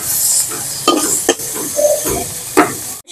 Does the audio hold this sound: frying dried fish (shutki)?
yes